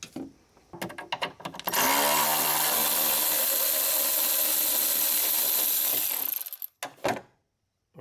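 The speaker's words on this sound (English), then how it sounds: "Now we're gonna remove this bolt over here." A power tool buzzes loudly for about five seconds while removing a bolt from the sliding door step of a Mercedes Sprinter van, with a few short clicks and clanks before and after.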